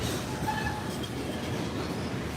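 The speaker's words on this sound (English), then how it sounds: "that train's picking up speed" A freight train of box cars, center beams, gondolas and tanker cars rolls past steadily as it picks up speed, a continuous loud rumble of wheels on rail with faint squealing tones and no talk.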